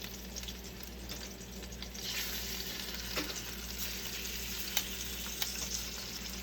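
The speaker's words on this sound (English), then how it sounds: "When you hear that nice sizzle." Chicken pieces sizzle and fry steadily in a hot pan, a continuous crackling hiss with a few sharper pops, close and fairly loud with no talking.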